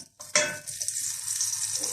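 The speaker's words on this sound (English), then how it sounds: "I'm going to throw in a couple of bay leaves and just let them sizzle a bit" A sudden hiss as bay leaves drop into hot oil for a beef curry, followed by a steady bright sizzle that continues without pause.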